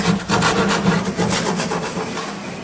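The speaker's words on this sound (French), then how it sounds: "quand on gratte le bois, on enlève bien tout le charbon qui est fragile" A rasp scraping charred wood on industrial-style furniture, loud close strokes in a steady back-and-forth rhythm with a rough grinding texture, no voices.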